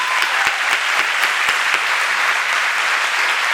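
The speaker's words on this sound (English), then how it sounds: "I would like everyone to please give him a round of applause for all the support he's given for Sosa." Audience applause for Barry McKinney after a speech, steady dense clapping with a few sharper individual claps early on, loud and close, with no talking.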